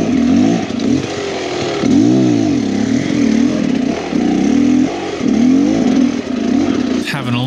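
Beta Xtrainer 300 dirt bike being broken in on a wooded trail at Wolfs Ridge, its two-stroke engine loud and close with rising and falling revs as the throttle is worked over rough ground, continuing for the whole stretch.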